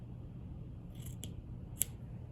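A few quick scissor snips trimming fabric for a no-sew folded star ornament, crisp and close over a low steady hum, with no talking.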